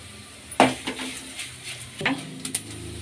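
Goli idli masala with urad dal frying in a pan as a spoon stirs it, giving a few distinct metallic scrapes and clinks over a low, steady sizzle, close by and without speech.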